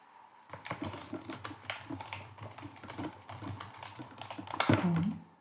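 Soft, rapid typing on a computer keyboard close to the microphone, keys clicking in irregular bursts at a gentle ASMR volume, with a brief louder tap near the end.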